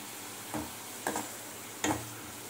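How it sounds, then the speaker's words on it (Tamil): Sliced onions with a pinch of salt frying in a pan for a black chana side dish, a steady hiss broken by three short scraping stirs, close and moderately quiet, no talk. "இந்த வெங்காயம் நல்லா வதங்கணும்"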